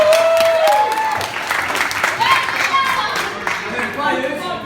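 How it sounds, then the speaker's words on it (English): A crowd at an under-7 football presentation claps in a sustained round of applause, loud and close, with voices and cheering mixed in throughout. "let's give all the players a big round of applause."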